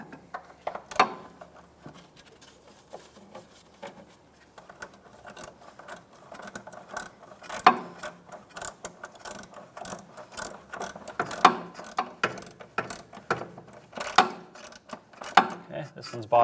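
A hand ratchet clicks in quick bursts of rapid pawl ticks, tightening the rear sway bar bushing bolts on a 1997-2001 Lexus ES300, close and fairly loud with short pauses between strokes.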